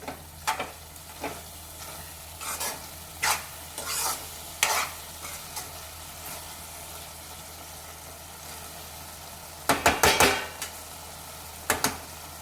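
Ridge gourd curry stirred in a frying pan: a spoon scrapes the pan in scattered bursts, with a quick cluster of scrapes near the end, over a steady low sizzle.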